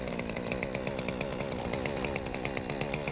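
Chainsaw sawing a fossil into pieces in the video game Dinosaur Fossil Hunter, a steady close buzzing drone with a quick rhythmic pulsing of the chain running throughout, no talking over it.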